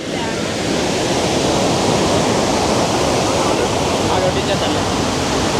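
A loud, constant roar of the Tarabu (Pittala Borra) waterfall in the rain fills the whole clip, steady and close, with no distinct voices rising above it.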